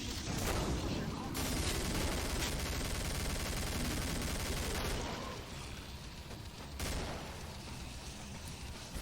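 Rapid gunfire from weapons in the zombie shooter game Killing Floor, dense bursts of shots running almost without pause, loud and close, with a brief lull before firing resumes.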